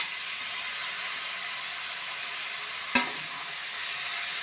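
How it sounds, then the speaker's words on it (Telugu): Tomatoes frying in a pan with ginger garlic paste and turmeric give a steady soft sizzle with hiss, and one sharp knock of a utensil near the middle. "టమాటో వేసుకొని కలుపుకొని కొంచెం మగ్గనిద్దాం."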